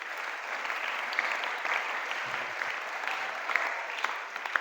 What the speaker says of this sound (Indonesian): Tepuk tangan untuk kita semuanya hari ini.